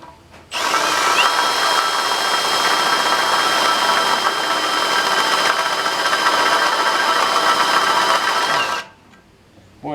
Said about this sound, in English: that's nasty drilling